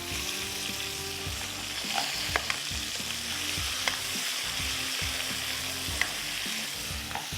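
Chicken and chutney stirred in a hot pan for gol gappay chaat, with a steady sizzle broken by scraping spoon strokes and occasional sharp clinks, close and continuous with no talking.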